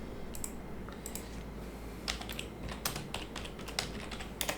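Keystrokes typing a command on a computer keyboard while setting up a VPS server, a steady patter of clicks in quick irregular bursts, close and clear over a low background hum, with no voices.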